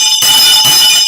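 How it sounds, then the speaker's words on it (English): A bell rung twice in quick succession during a live stream, loud and bright with a sustained metallic ring and no talk over it. "Let me ring the bell for my brother."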